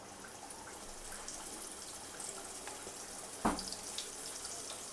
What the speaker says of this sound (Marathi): रावस आपला मस्त आहे बघा ताजा, हा आता डायरेक्ट तव्यामध्ये फ्राय होणार